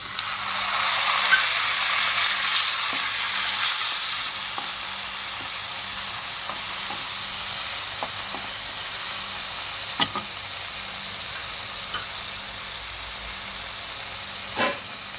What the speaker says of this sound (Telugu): ఉల్లిపాయలు కొంచెం మగ్గాక కట్ చేసి పెట్టుకున్న 3 టమాటా ముక్కలను వేయాలి.